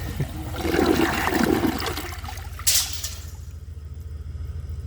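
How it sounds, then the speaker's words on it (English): An American Standard Townsend Vormax toilet from 2018 flushes with a close, rushing water surge that drains, ends in a brief gurgle and leaves a faint trickle as the tank refills. "I'm gonna give this another flush"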